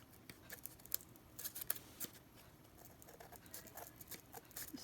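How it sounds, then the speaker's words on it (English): Scissors snip through decoupage material for a Dollar Tree LED candle craft, a quiet series of soft irregular cuts close by with faint rustling, no talk. "I'm gonna cut it some more, at least this side here."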